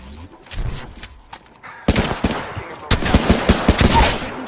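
Video game gunfire crackles in loud, dense bursts of automatic fire, sparse at first and then sustained and rapid, up close.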